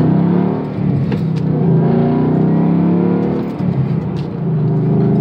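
A Ford Mustang pulls away and drives on, its engine a loud, close, steady drone with slight surges in revs and no talking.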